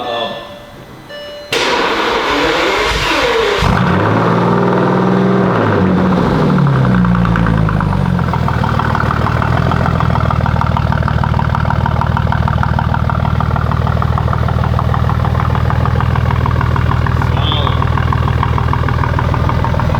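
A Bentley engine fires up and revs, the pitch sweeping up and down a few times before settling into a loud, steady idle that runs on unbroken.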